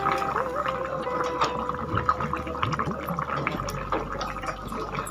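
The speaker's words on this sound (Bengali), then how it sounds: "ঝোল কিন্তু ফুটেই গেছে এবারে আমি মাছগুলো ছেড়ে দিচ্ছি" Rohu fish pieces go into a thin curry broth with ridge gourd and potato at a rolling boil, giving close, continuous bubbling and wet gurgling splashes.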